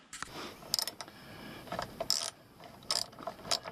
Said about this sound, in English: you want to remove those two bolts. And they are a 10mm.